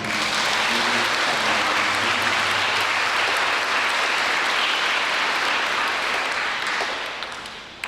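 Dense, steady applause from a church congregation at a Sunday Mass in the Saint-Louis Roi de France parish, Turgeau, filling the room for about seven seconds before tapering off at the end.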